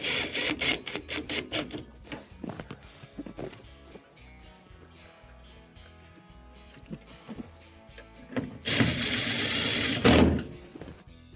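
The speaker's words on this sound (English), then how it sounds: "Let's reinstall the screws." Screws are driven back into a GE washer drain pump assembly with a power screwdriver, giving bursts of rapid clicking and whirring that come and go, with a longer loud run near the end and no voices.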